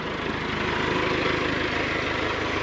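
Farm mulcher engine running under load, a loud steady droning rumble with a fine rapid pulse, continuous and close, no talking.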